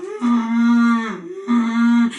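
A storyteller imitates a cow with two drawn-out vocal moos, loud and close, each a sustained low tone with a short gap between them.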